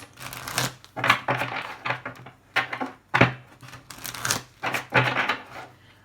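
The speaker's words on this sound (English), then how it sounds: "I'm going to pull 2 cards." Oracle cards shuffled and pulled from a deck, a close run of papery riffles, slaps and rustling handling noises in irregular bursts with brief pauses between them.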